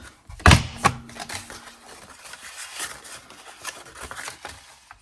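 Card being cut on a scoreboard while making a star candle box, with a sharp close snap near the start followed by a scatter of quieter clicks and scraping under the effort of pressing down.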